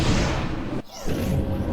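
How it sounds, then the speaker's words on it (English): A console explodes in the video game Star Trek Online, a loud booming crash with a whooshing rumble, broken by a brief dip in sound before the rumble resumes. "I bet I could make that console explode remotely."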